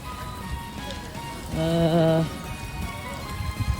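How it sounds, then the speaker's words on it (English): Rain falls steadily on an MBTA South Coast Rail station platform, a dense close patter throughout, with a brief louder tonal signal sounding near the middle. "it's starting to rain a bit more"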